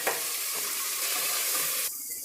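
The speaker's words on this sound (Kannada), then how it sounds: "ಎರಡು ಹಸಿಮೆಣಸಿನ್ಕಾಯಿ ಕಟ್ ಮಾಡಿ ಸೇರಿಸ್ಕೊಳ್ತಾ ಇದ್ದೀನಿ" Chopped green chillies sizzling and being stirred in frying onion-tomato masala for a pressure-cooker biryani, with a steady close hiss of hot oil that cuts to a quieter sizzle near the end, with no voices.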